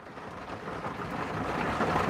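Steady rain falling outdoors makes a dense, even hiss with a faint low rumble underneath, continuous and gently growing louder, with no voices.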